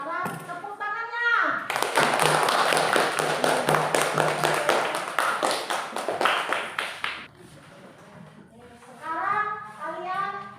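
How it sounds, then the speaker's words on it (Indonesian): A group of children claps hands in a classroom, a rapid burst of sharp, rhythmic claps lasting several seconds, with children's voices talking just before and after. "Sekarang tepuk tangannya."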